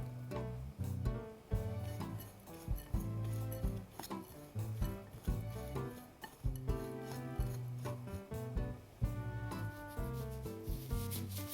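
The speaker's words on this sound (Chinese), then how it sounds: "先给它们搅拌均匀" Filling of sugar, sesame, walnut, melon seeds, hawthorn cake and candied winter melon being stirred in a bowl, faint rubbing and scraping strokes in an irregular rhythm under louder music.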